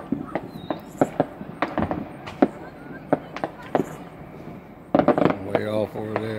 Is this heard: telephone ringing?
no